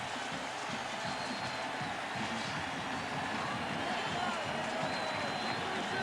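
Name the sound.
stadium crowd cheering after a kickoff return touchdown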